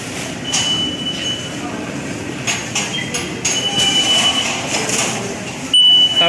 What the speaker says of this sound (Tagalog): Dito tayo sa LRT.